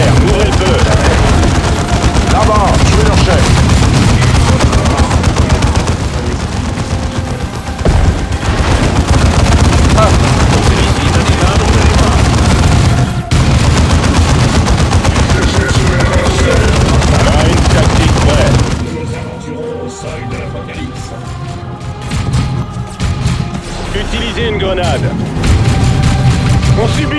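Battle noise from Dawn of War 2: dense, loud gunfire and explosions rumble continuously for most of the stretch, then give way to quieter sounds near the end, with in-game voices over it.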